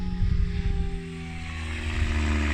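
A helicopter in flight entering an autorotation descent, a steady droning rotor and engine tone with strong low harmonics, close and continuous, its pitch shifting slightly as the descent begins.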